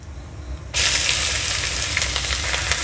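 Chopped onion hitting hot oil in a pan for matar paneer, a sudden loud sizzle that holds as a steady, crackling fry close by, with no talking.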